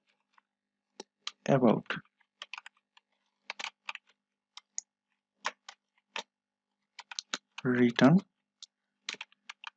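Someone types Django Python code on a computer keyboard. Sparse, quiet key clicks come in short irregular bursts with a couple of brief spoken words between them.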